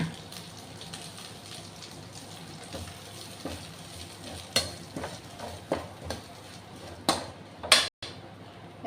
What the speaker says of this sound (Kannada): ಒಂದು ಚಮಚದ ಎಣ್ಣೆ ಪಾಡಿ ಬೇರೆ ಸೊಪ್ಪು ಪಾಡಿ